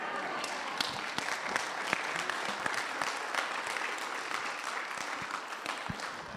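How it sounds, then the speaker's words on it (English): An audience at a community meeting about a library food pantry closing claps steadily, a close, even patter of many hands with sharp individual claps standing out. "Y'all can clap if you want to."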